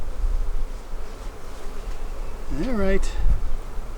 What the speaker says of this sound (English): I've already got bees swarming all around me.